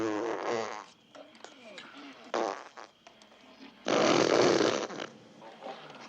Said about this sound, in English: Blazing Saddles still would have been a great movie without the fireside fart scene